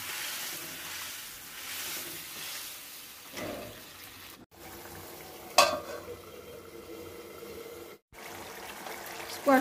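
Salt-boiled squash being added to a simmering curry in a pan, soft stirring scrapes and gentle bubbling with a brief clatter, fairly quiet, no voices.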